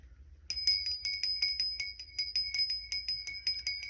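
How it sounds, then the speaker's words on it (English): A small bell rings rapidly and repeatedly, with a bright, close, metallic jingle in a steady rhythm of about four strikes per second, heard alone without talk. "For some reason, the sound of that bell, I couldn't take it too much anymore."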